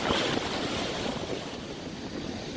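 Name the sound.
ocean waves at Myrtle Beach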